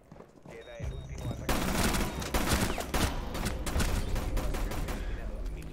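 Rapid bursts of gunfire in the video game Rainbow Six Siege rattle continuously, dense automatic shots layered with louder single cracks, loud and close throughout.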